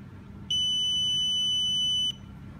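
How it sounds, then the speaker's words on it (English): A single long electronic confirmation beep from a smart-home gateway device, steady and high-pitched, holding for about a second and a half over a low background hum before cutting off. "Long beep sounds to confirm successfully setting"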